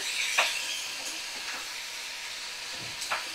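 Spiced vegetables stir-fry in a pan with a soft, continuous sizzle. A few sharp spatula scrapes and knocks come at intervals, heard up close with no speech.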